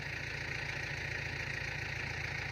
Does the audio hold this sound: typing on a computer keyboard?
no